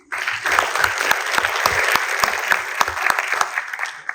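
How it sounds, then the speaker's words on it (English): An audience at a mental health talk in Kenya applauds the panelists, steady clapping with distinct sharp claps standing out, fairly close and sustained. "maybe just an applause for them"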